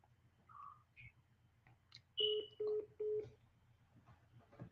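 A phone dials a call: several short electronic tones and beeps, then three steady evenly spaced dial tones, quiet and close with no talking.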